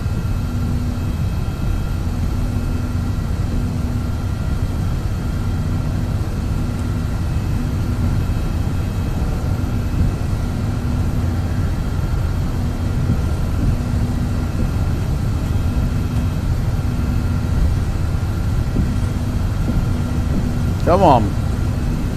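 Airbus A319 jet engines spooling during the takeoff roll in a flight simulator, a steady loud drone with a tonal hum and a sharp whine near the end, under a man's occasional speech.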